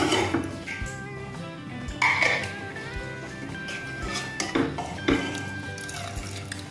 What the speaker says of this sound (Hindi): तो चलिए कवर खोल के हम देख